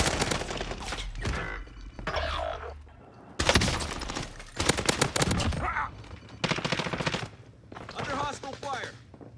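Rapid bursts of gunfire rattle through a match of Warzone, with loud machine-gun volleys and scattered single shots in clustered runs, separated by short gaps and mixed with in-game voice callouts.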